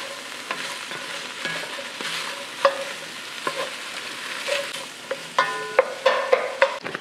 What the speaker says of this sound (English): I'm just gonna saute this until that butter melts